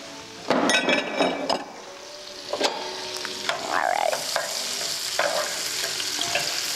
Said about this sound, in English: And our butter's cooking here.